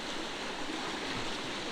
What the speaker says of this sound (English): the river though is getting quite rapid down here